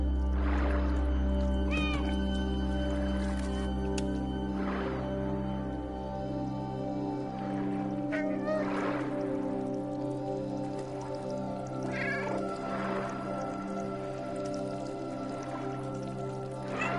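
A cat meows repeatedly, several drawn-out cries spread through a long stretch over a steady background hum and trickling water, fairly close and with no speech.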